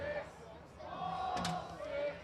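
A baseball crowd at Arcata Ballpark begins chanting, a rising murmur of many voices with a short cheer, heard under a play-by-play announcer talking.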